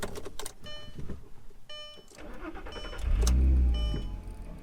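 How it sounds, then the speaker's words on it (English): A rare Audi bought at a junk auto auction as a non-runner idles after starting, with a steady, close, moderately loud engine note that swells into a deeper rumble partway through. "overall, the engine itself sounds really healthy"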